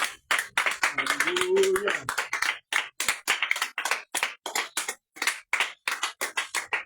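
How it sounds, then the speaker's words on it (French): A church congregation at an intercession prayer service claps in a fast steady rhythm, loud and close, after a voice sings out at the start. "tiens-toi debout et acclame puissamment le roi de gloire"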